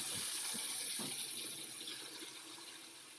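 Water poured from a container onto freshly planted seeds in soil, a steady close pour with a few soft splashes at the start, fading gradually toward the end.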